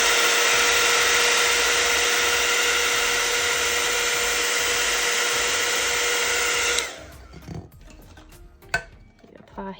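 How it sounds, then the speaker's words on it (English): Heat gun blowing on vinyl wrapped around a glitter tumbler, a steady loud whirring hiss for about seven seconds, then it switches off, leaving faint handling clicks and taps. "I'm going to apply some heat to this so I can really get it to go around that curve and smooth"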